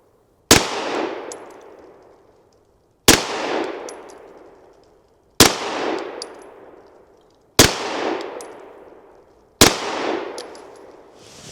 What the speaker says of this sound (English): Why don't we shoot a 5-shot group and see how it performs?